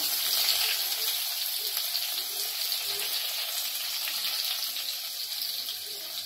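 Onion sizzles in hot oil with mustard seeds, cumin and curry leaves, making a steady, bright hiss throughout, with no voices.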